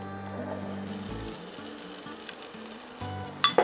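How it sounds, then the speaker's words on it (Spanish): Onion, garlic and vegetables sizzling as they are sautéed in a pot for Chinese fried rice, a steady frying hiss with some stirring noise, close and alone. "En esta misma cazuela vamos a agregar la cebolla y el diente de ajo. Y vamos a saltearlo muy bien."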